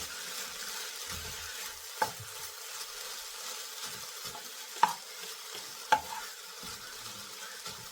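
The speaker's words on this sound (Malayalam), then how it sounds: "നന്നായി ഒന്ന് ഇളക്കി മിക്സാക്കി കൊടുക്കാം" Drumstick flower thoran with boiled egg is stirred in a pan, giving a soft, steady sizzle and rustle broken by three distinct clinks of the utensil against the pan.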